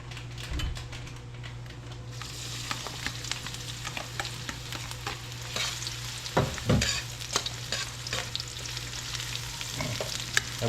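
Garlic, onion and ginger sauté in hot oil with a continuous close sizzle, broken by repeated scraping stirs of a utensil against the pan, for a Kapampangan tausi bangus dish with vegetables, with no talk.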